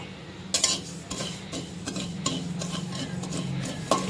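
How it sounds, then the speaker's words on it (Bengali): Poppy seeds dry-roasting in a pan, stirred with a utensil, giving soft scraping and light clinks against the metal at a steady, unhurried pace, with no talking. "পোস্তটা একটু হালকা রোস্ট করে নেব"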